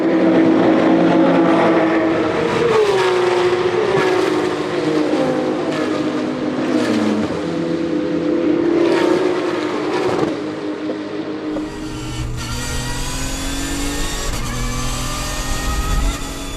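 Race cars at Paul Ricard circuit roar past in a tight pack early in a race, loud sustained engine drone with rising and falling pitch as cars pass, the sound shifting to a lower rumble near the end.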